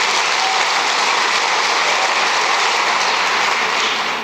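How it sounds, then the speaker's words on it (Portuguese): A church congregation applauds in a dense, steady roar of clapping that holds evenly throughout, loud and enveloping with no voices standing out. "Pode aplaudir."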